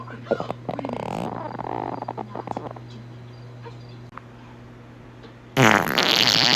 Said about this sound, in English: that was a fart